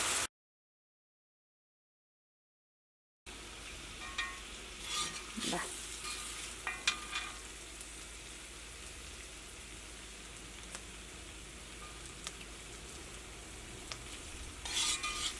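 Fried coated beef being stirred with soy sauce in a pan, a steady sizzle with scraping stirs that starts after a short silence and continues alone, moderately loud and close.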